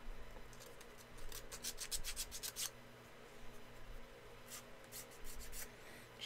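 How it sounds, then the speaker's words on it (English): Close, scratchy rubbing strokes of hand sanding on a metal casting, arriving in fast groups with a pause between, over a faint constant hum. "And regular hand sanding."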